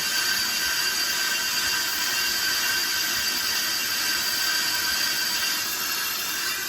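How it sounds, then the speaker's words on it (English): A car brake lathe cuts a rotor on automatic feed, giving a steady, loud mechanical whir with high, even metallic tones and a faint ratcheting texture, unbroken and without speech. "so we'll let this continue. And again, you can see the automatic feed is spinning here"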